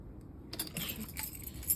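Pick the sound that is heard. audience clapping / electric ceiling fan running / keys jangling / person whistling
keys jangling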